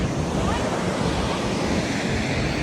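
Montmorency Falls in Quebec roars as a steady, dense wash of falling water, loud and continuous with some wind buffeting across the microphone.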